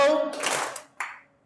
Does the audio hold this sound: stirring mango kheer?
no